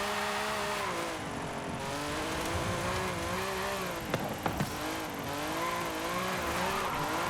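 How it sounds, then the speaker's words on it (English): A raspy, high-revving V12 car engine in the racing game Forza Horizon 5 drones with rising and falling pitch as gears shift, with a brief tire squeal midway. "Has the old, like, raspy V12 engine sound as well."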